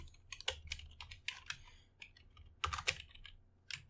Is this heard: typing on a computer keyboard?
yes